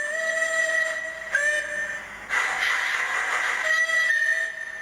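Sound-chip train sounds from a model Merchant Navy steam locomotive: a steady whistle-like tone with a rumbling running hum, briefly shifting pitch, heard close and continuous with no speech.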